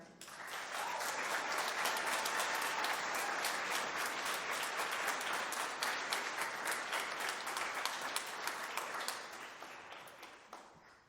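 Audience at a high school spring band concert breaks into sustained applause, a dense, even roar of many hands that holds for about nine seconds before tapering off.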